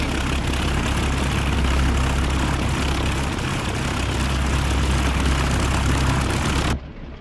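A Bf109 fighter's piston engine in the DCS flight simulator drones loud and steady with a constant rumbling roar, ending abruptly near the close.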